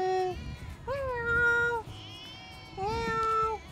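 A cat meows three times, drawn-out and fairly close, with a faint low rumble underneath.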